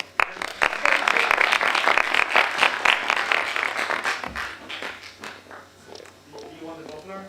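An international student-week talk audience breaks into a loud, dense burst of applause that fades after a few seconds, then people begin chatting.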